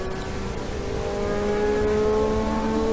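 A 2017 Indy 500 race car in second gear accelerates around the track, its engine a steady, droning whine that grows gradually louder and higher over the few seconds, with no voices.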